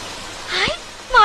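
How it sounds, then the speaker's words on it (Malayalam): Rain falls in a steady, soft hiss throughout a quiet nighttime scene from a Malayalam film. A voice speaks over it midway, and a second voice comes in near the end. "ഹായ്, മഴ."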